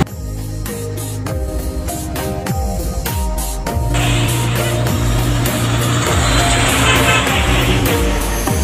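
Heavy trucks and other large vehicles rumble past beside a bridge, deep engine drone rising into a louder, broader roar as traffic passes close, with a brief horn toot.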